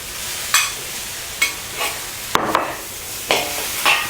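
Tomato and potatoes stir-fried in a pan for mee goreng, a noodle dish: about six sharp spatula scrapes and clatters land at uneven intervals over a soft, steady sizzle, close and clear with no talking.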